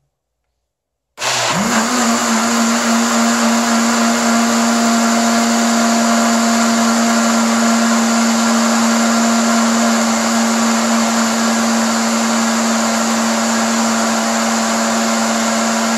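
A blender mixes salt and vinegar soap, starting abruptly after a moment of silence and then running as one loud, steady motor whine with a constant pitched hum for the rest of the clip.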